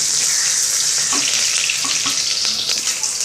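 Garlic cloves and onion fry in hot oil for a Marathi-style spicy mutton curry, a steady loud sizzle running throughout with a few faint clicks of a spoon stirring the pan.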